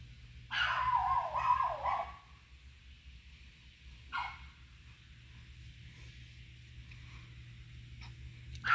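A dog barks in a backyard vegetable garden: a loud burst of repeated barks, then a single bark a couple of seconds later, followed by quiet outdoor ambience.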